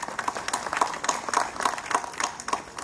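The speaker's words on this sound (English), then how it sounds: "Please give her a round of applause." Sparse, uneven clapping from a small audience at an Independence Day celebration award announcement, individual claps ringing out at a moderate pace, fairly quiet and thin rather than a full ovation.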